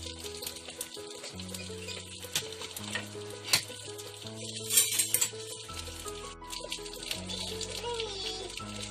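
Eggs cooking in a pan with water in place of oil give a steady sizzle and frying hiss under light stirring, with a few scrapes and clinks along the way. Kitchen background noise runs continuously, and music plays low underneath.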